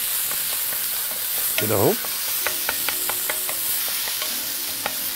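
Minced meat is stirred and sautéed in oil in a pot for meat lasagna, a continuous hiss with a rhythmic series of spoon taps and scrapes, and a brief spoken remark over it.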